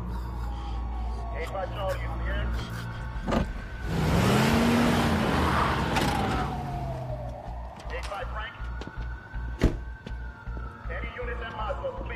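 A car engine revs and accelerates during a tense police chase, with a rising roar in the middle and a siren sweeping behind it. Clicks and thuds come and go, and voices talk over the noise.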